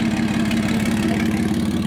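A Nissan VG30ET engine idles on a stock ECU in a Z car, a steady, loud, low rumble with an even pulsing rhythm throughout, heard up close with no talking.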